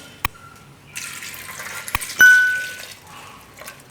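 Water poured briefly into a metal pressure cooker holding raw bananas in a home kitchen, a short close splash and fill after a few light dings and taps, otherwise quiet.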